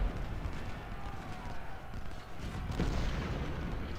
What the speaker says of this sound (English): The enemy's firing canister across this open field into Pratt's forces.